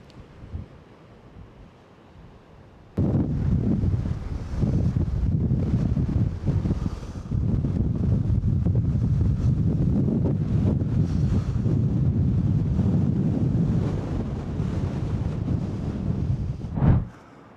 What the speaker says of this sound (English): Weather said it's going to be 20-mile-an-hour wind.